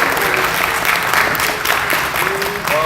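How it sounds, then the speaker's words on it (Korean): Audience applause fills a book concert in the international conference hall of Ansan Arts Center, a steady wash of clapping from a seated crowd lasting a few seconds, with faint tonal sounds mixed underneath. "박수 한번 부탁드리겠습니다"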